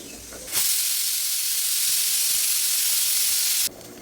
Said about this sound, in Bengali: একটা সিটি হয়ে গেছে, আর একটা সিটি মারা হয়ে গেলে বন্ধ করে দেব।